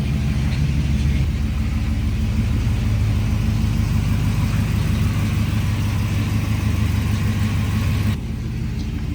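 A 1957 Chevy step-side truck engine runs with a loud, steady, deep rumble close by. It holds evenly for the whole stretch, then eases slightly near the end, with no talking.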